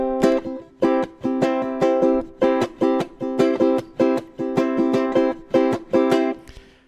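Ukulele strummed in a steady rhythm, with the strings muted by the wrist so each chord is cut short, producing about a dozen crisp, loud, evenly spaced chops with brief silences between them.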